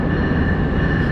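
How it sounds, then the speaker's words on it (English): A train arriving at a Philadelphia station, a loud steady rumble with a sustained tonal whine throughout. "and the train is coming here."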